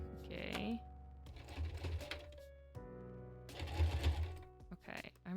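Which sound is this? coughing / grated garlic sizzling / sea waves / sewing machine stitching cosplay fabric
sewing machine stitching cosplay fabric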